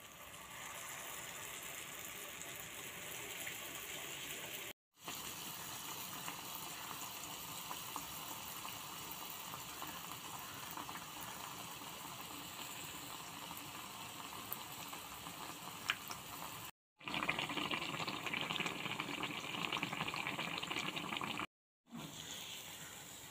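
Neyyappam batter made with pathiri flour is poured into a hot pan of oil and fries, giving a steady, continuous sizzle and bubbling hiss that lasts throughout with a few short breaks and no talking.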